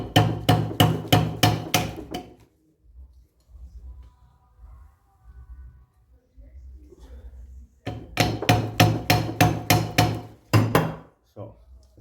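A small hammer taps a nail onto a rivet on a Volkswagen Beetle wheel: a close, loud run of about six quick metallic strikes, a quieter pause with low rumbling, then another rapid burst of strikes.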